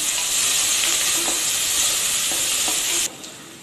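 Green chilies and curry leaves sauté in a pan with a loud, close, steady sizzle and a few soft stirring taps, until the hiss cuts off abruptly near the end.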